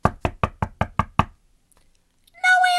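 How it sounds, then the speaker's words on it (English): Seven firm knocks on a door in a steady, quick rhythm, close and clear, followed by a short silence and then a brief sustained tonal sound. "I knocked on that brick house."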